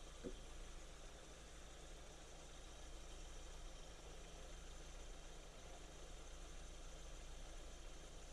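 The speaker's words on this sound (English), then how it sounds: "we're idling there at about 850 RPM." A steady low engine rumble from a classic Metro 998 with an SU carburettor, idling continuously at about 850 RPM at moderate level, with no voices and no change in pitch throughout.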